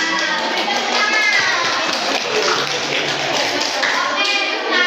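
Schoolchildren clapping together in a classroom, a dense, lively patter of many small hands that runs the whole time, with children's voices mixed in.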